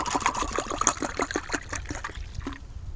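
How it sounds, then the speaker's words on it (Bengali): Cold water trickling and pouring into a container while making homemade Sprite with sugar syrup and lemon juice; a steady close splashing stream that tapers off toward the end. "ঠান্ডা জল দিয়ে দেবো"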